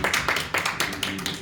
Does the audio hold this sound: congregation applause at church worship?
yes